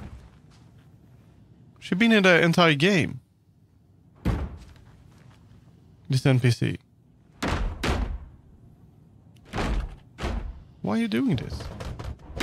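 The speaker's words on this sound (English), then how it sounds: "she's still going nuts on the door" An NPC in Alan Wake 2 bangs on a door in repeated heavy thuds and knocks, with a person talking over and between the blows.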